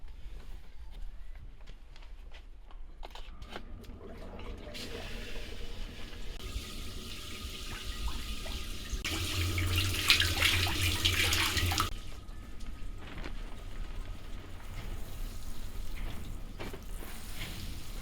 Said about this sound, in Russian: теперь кассету нужно увлажнить, чтобы там была влага.